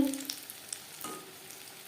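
An egg chop fries in hot oil, with a steady close sizzle, light crackles and faint stirring.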